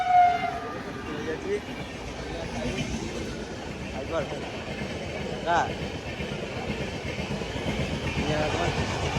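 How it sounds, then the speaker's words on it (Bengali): A train passes a railway level crossing in Bardhaman, a steady broad rumble and rattle that fills the whole stretch, with people talking over it. "ট্রেন যাচ্ছে"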